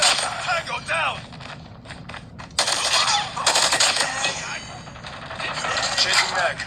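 Rapid bursts of automatic gunfire and metallic impacts ring out in a mobile shooter game, loud and close, with bullets clanging off sheet metal and someone talking over parts of the action.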